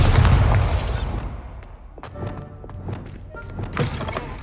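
Bombarda spell explosion in a video game, a heavy boom opening loudly and fading over about a second, followed by softer scattered thuds and clatter.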